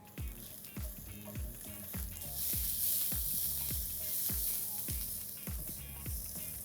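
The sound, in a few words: sliced onion and salt frying in a pan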